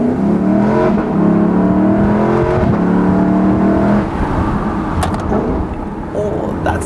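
A 2019 Lexus LC500 V8 roars and revs up hard in manual mode with rising exhaust tones, then drops off with a shift and a sharp pop or two near the end.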